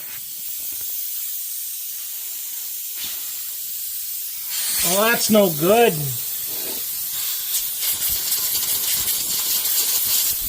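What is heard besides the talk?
air hissing out of a punctured trailer tire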